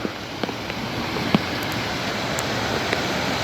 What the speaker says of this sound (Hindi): तो है ये रहा वो जी झरना, ये भी ग्लेशियर से ढका रहता है